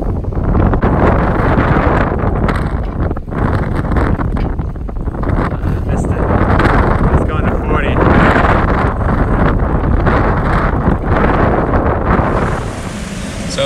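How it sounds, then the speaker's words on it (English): Loud, constant roar of strong wind, 25 gusting to 30, buffeting the microphone on a sailboat crossing the Alenuihaha Channel between the Big Island and Maui, with water and boat noise underneath, sustained throughout. "So winds are already 25 gusting to 30."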